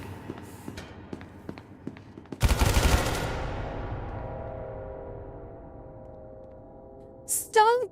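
Video game gunfire in an SCP containment-breach game: a quick series of sharp shots, then a dense loud burst of automatic fire that rings out and decays, with a short electronic warble near the end.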